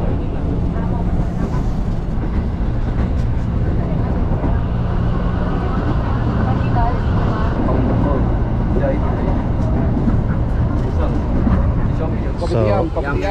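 Interior of a moving Jakarta commuter train, with a steady loud rumble and rattle throughout and some chatter in the carriage.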